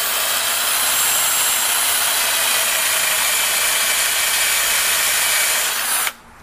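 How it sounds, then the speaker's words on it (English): A power drill bores steadily into a wooden bench, one continuous loud whirring grind held for about six seconds before it cuts off abruptly, with no talking. "drilling another hole which goes right into the bench itself"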